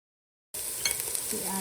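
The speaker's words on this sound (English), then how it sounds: "Then we put our onions in to get sauteed." Onions hit avocado oil in a pot over medium heat, and a soft steady sizzle starts abruptly after a moment of silence and continues briefly, close and quiet.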